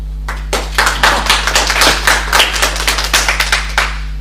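Seminar audience applauding at the start of a talk, a burst of many hands clapping that swells quickly and holds steady at close, lively volume before beginning to thin out.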